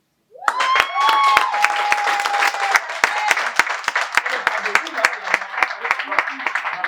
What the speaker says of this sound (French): j'aimerais vraiment tout applaudir